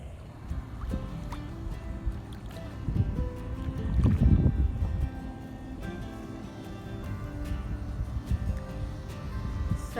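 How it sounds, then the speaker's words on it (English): Kayak paddling on a river in a state park: repeated soft water splashes and paddle strokes close by, with a slightly louder swirl of water midway and light wind noise throughout. "All right, time to start paddling back."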